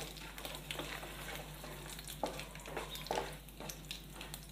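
Carrot pieces frying in a tempering of mustard seeds, cumin, chana dal and urad dal make a faint, steady sizzle with a few sharp crackles and pops, and nobody speaks.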